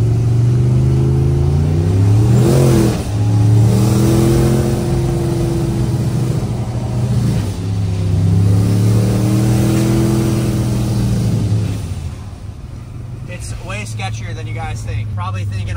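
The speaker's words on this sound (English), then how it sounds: "I'm trying to get sideways" Pickup truck engine revving hard as it slides sideways on an icy road, rising and falling in long surges up close, with a voice talking over it and the roar easing off near the end.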